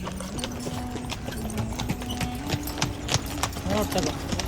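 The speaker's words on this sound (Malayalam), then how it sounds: "ഇത് കുതിരയാണ്" Horse hooves clip-clopping in a quick, steady rhythm close by, from a tourist horse ride at the pyramids in Egypt, with people talking over the sound.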